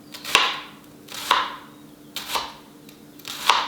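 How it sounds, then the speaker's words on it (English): A knife slices thin angled pieces of red onion, four distinct crisp cuts against a board at a steady, unhurried pace, close and clear. "now I'm just gonna come in on a little angle so that I get even slices of thin red onion"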